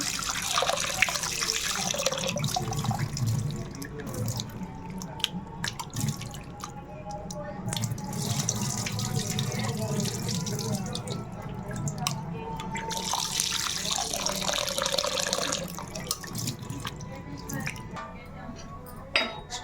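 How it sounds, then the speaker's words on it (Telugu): Tap water running and splashing into a sink while mutton is washed by hand, a close, steady trickle with dripping and wet handling noises, and a voice talking over it at times. "మటన్ నీట్గా శుభ్రం కడుక్కోవాలండి."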